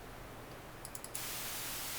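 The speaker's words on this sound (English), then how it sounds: "If we plug the noise output straight out, then we can see and hear noise." Noise generator of an Arturia EMS Synthi V software synthesizer, a steady hiss of white noise switching on after a few faint clicks and holding loud and even to the end.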